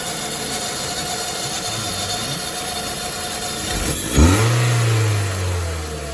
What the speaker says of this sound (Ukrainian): Зараз піду газувати.